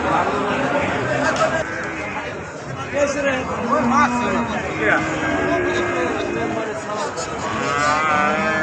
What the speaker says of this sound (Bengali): এই জায়গায় অনেক দেশি গরু আছে অস্ট্রেলিয়ান গরু আছে